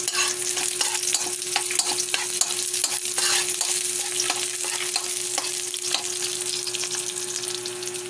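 Onion dropped into a hot pan of ginger and garlic sizzles steadily and loudly, broken by frequent sharp scrapes and taps of a stirring utensil, with no talk over it.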